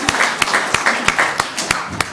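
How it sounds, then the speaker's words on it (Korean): Church congregation applauding, a run of sharp, evenly spaced claps over a soft background of many hands clapping, brief and close. "우리 박수로 하나님께 영광"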